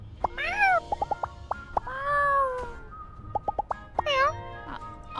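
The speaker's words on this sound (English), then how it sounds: "Oh, are the cats having a chat?" Cats in the farming life-sim game My Time at Sandrock meow back and forth, several bright rising-and-falling calls close together over a few seconds, with a faint low background hum beneath.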